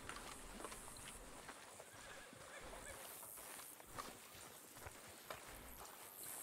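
Horses in Red Dead Redemption 2 clip-clop along at a trot with an occasional whinny, faint and distant beneath a steady game ambience.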